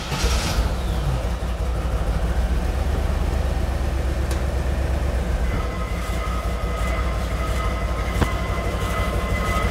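An old dream car's engine runs after being started back up, a steady low rumble that stays constant and fairly loud throughout, with a few faint clicks on top.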